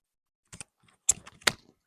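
Pruning shears cut a David Austin rose branch with a few quick, close snips and clicks of the blades, separated by short pauses.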